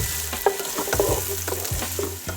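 Chopped onions fry in oil, sizzling steadily with a crackling hiss while a spoon scrapes and stirs the pan now and then, close up.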